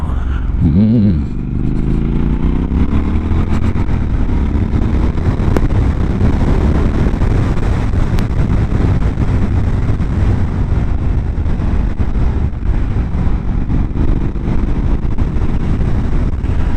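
A Triumph Scrambler 1200 XE motorcycle on a test ride gives a loud, steady engine drone mixed with heavy wind rush, with a brief rise in engine note near the start.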